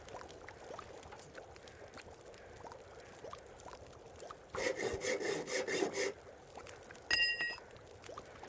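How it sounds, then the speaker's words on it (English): A hacksaw cuts through material in The Long Dark game, a rasping burst of rapid back-and-forth strokes standing out over low wind ambience, followed by a short scrape. "we can go ahead and hacksaw this thing down"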